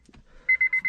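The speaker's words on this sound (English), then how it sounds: "Now still got a beep" A Honda Civic Type R FN2 race car build sounds a dashboard warning beep after the key is removed: a short click or two, then four evenly spaced, clear electronic beeps in quick succession.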